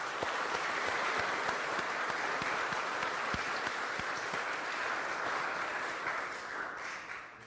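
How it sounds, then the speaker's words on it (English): An audience claps warmly for a high school football group at a National Signing Day event, dense continuous applause with a few sharper claps up close, tapering off slightly near the end. "definitely want to give them a big round of applause for that"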